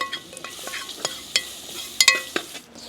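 Dragon chicken gravy being stirred in a pan, with a faint sizzle under a series of sharp spoon scrapes and clinks against the metal, irregular and close, alone without talk.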